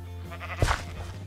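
A sheep in the Minecraft video game bleats once, a short loud bleat in the middle of a steady low game hum, with no talking.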